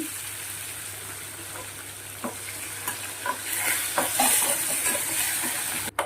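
Onions and cherry tomatoes sizzle in a pan as they turn golden brown. The frying swells louder midway, with repeated close scraping stir strokes and a sharp knock near the end.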